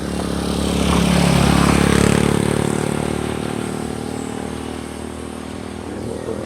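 A motorcycle engine drones past on a rural morning road in Lumbayagan, Tandag City, rising to a loud steady rumble, then slowly fading as it moves away, with no talking.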